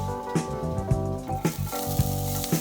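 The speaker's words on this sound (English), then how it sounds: "On the same pan on low heat, add the remaining chopped garlic, then sauté for about 30 seconds." Chopped garlic fries in a pan over low heat with a steady sizzle, crackling close by under continuous music with a regular beat.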